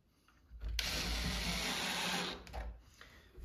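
Power driver sinking pocket screws into a tall custom storage unit, one steady loud whirring burst of about two seconds with a brief trailing buzz, close by.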